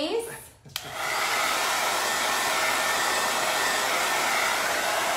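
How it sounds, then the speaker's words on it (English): A handheld blow dryer drying paint switches on after a brief thump and blows a loud, steady broadband rushing roar close by, with no voices. "Let me put a quick blow dryer on it."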